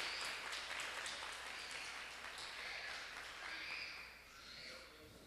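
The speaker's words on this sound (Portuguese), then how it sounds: "Uma salva de palmas para o nosso pastor." Church congregation applauding their pastor at a Brazilian evangelical community service, a steady wash of hand claps filling the room at moderate volume, gradually thinning toward the end with faint voices mixed in.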